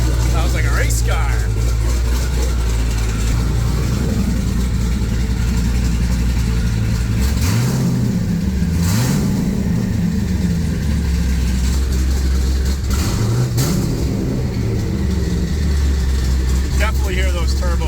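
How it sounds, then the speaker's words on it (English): Twin-turbo 1200 hp Corvette Z06 with a custom exhaust, its engine loud and rough at idle with a couple of rising revs and audible turbo whoosh, heard up close under people talking. "you can definitely hear the turbos more"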